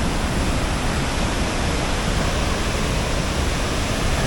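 Horseshoe Dam waterfall in the Arizona desert, with water released from the dam crashing down in a dense, continuous roar that stays loud and steady throughout, and no voices over it.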